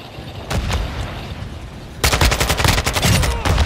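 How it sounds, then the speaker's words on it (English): Gunfire in Call of Duty: Modern Warfare II, loud rapid automatic bursts with a short volley early on, then a sustained stream of close shots. "Where the fuck am I getting shot from?"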